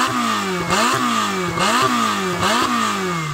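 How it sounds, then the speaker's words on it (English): A turbocharged Ferrari 488 Pista engine revs repeatedly in a drag race setting, rising and falling in four sharp, close bursts with a loud, harmonically rich tone and no talk. "let's have a listen to the Ferrari with its turbochargers"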